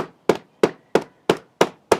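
A hammer strikes rose petals laid out for hammer printing, six sharp, evenly spaced blows close up with quick decays between them.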